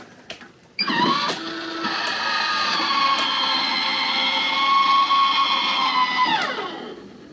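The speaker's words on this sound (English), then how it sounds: "Just open the fan." An electric fan in an off-grid house truck switches on abruptly and runs at full blast, a loud steady whirring drone with a humming tone that holds for several seconds before spinning down at the end.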